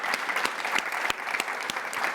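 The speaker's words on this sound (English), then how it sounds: "round of applause" A conference crowd at a Latina leaders summit claps in a steady, moderate round, a few louder individual claps cutting through the even patter.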